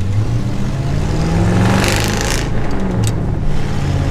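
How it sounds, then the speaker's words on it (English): A 1966 Ford F250 truck engine idles and revs through a dual exhaust, a loud, close, rumbling tone that swells in the middle and settles back, with no talking over it. "Yeah, I love that dual exhaust."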